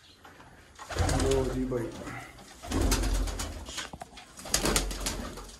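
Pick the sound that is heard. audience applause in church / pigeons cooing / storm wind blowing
pigeons cooing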